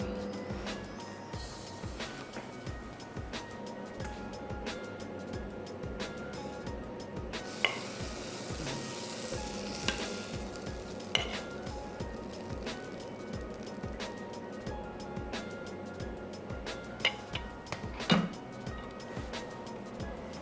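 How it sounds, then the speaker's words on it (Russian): Bread for bruschetta frying in a pan, with a steady soft sizzle and crackle and an occasional light clink of utensils. "Хлеб чуть поджарился, мы переворачиваем. И пока жарится другая сторона"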